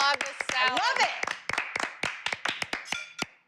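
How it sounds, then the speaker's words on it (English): Hands clap in applause on a cooking show set, a string of sharp, irregular claps that starts under overlapping voices and laughter, then continues more sparsely on its own. "I'm gonna have to applaud this salad."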